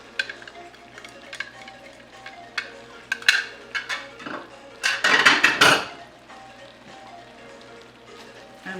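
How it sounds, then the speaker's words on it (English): Chicken mixture with green onions and parsley stirred in a pan, a run of scraping and clinking utensil strokes on metal, busiest and loudest midway through, with no talking. "And mix it up"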